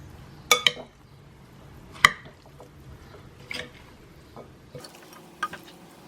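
Broccoli salad ingredients are stirred in a bowl, giving a few sharp utensil clinks against dishware separated by quiet gaps, with soft squishing of the mixture between strikes.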